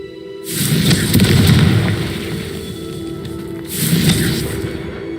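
Two loud fiery explosion bursts of the Confringo spell in Hogwarts Legacy, each a booming blast with a crackling, roaring tail, separated by a few seconds of lingering rumble.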